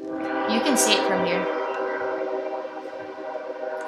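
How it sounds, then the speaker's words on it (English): A train horn blares at a town crossing, sustained and loud, with layered harmonic tones that hold steady for several seconds. A person speaks briefly over it. "It has to come through because it blares through all of town"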